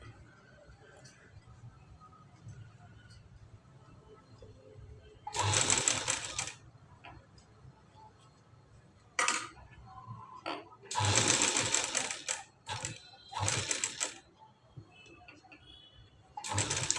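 A sewing machine stitches a puff sleeve for a new-model puff design, running in several short bursts of whirring with pauses, with a voice talking between the runs.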